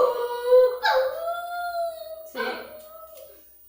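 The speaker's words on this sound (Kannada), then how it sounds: "ಅವ ಆಯುಷ್ ನಾಯಿ ಅಂಚನೆ ಕೊರೆಪು" A dog howls in long, wavering, drawn-out tones close by, with a couple of sharper whining rises, while people talk over it.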